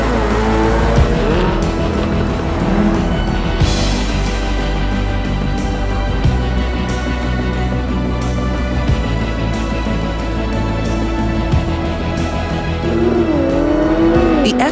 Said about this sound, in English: you can choose between a refined engine note or being heard long before you are seen